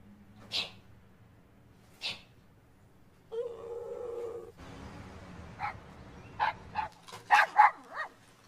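A dog barks in short, sharp bursts, two spaced single barks followed by a rapid cluster of several more near the end, with low background noise and a brief tonal hum in between.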